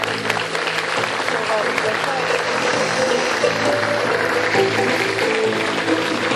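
Cinema audience applause welcoming a film director at a screening, steady and sustained for several seconds, with some voices mixed in beneath the clapping.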